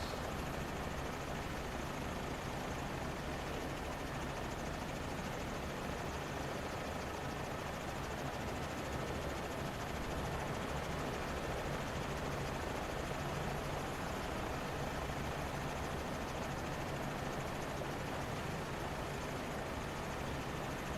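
Steady turbine whine and rotor drone of an H125 helicopter in Microsoft Flight Simulator 2024, flying over Norwegian fjords, a continuous, even engine roar that holds unchanged for the whole stretch with no talk over it.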